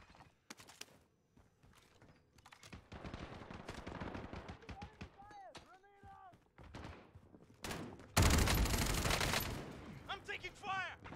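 Gunfire in the Warzone battle royale: sharp single shots and rapid bursts crack through the match, building to a loud, dense volley near the end, with game voice lines and a player talking between shots.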